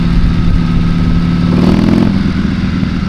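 Buell motorcycle riding a warm-up lap on the Tail of the Dragon road in 2025. The engine is loud and close and drones steadily throughout, with slight surges in revs and no pauses.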